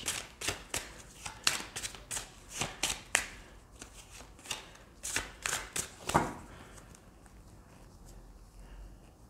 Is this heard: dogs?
no